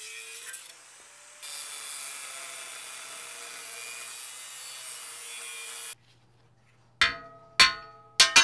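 Grinding during a rope tow rebuild: a steady, fairly loud abrasive whine runs for several seconds, then stops, followed by a few sharp knocks and clatters.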